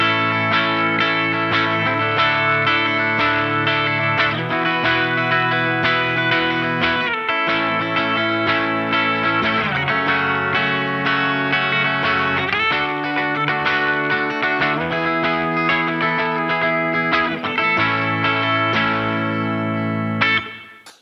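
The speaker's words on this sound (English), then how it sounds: "So here are some clean tones with just a little bit of reverb." A Jazzmaster electric guitar played through a Line 6 Helix on clean tones with light reverb, strummed chords and picked notes ringing steadily and evenly for about twenty seconds before fading out, with no talking.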